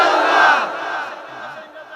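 A large crowd at a religious waz gathering roars a loud takbir in unison, the massed shout peaking early, then trailing off into a fading, ragged chorus.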